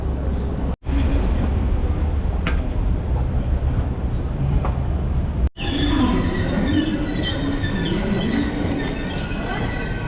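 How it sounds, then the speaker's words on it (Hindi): An airport train pulls into a station, its loud continuous rumble and rail noise filling the space with squealing tones toward the end, while people talk over it. "ये एयरपोर्ट की ट्रेन आ गई है"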